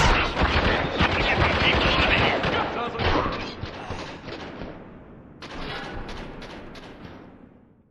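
Dense, loud automatic gunfire erupts in the Spec Ops The Line shooter, rapid bursts overlapping at first, then thinning into spaced volleys. Shouted voices mix into the fighting.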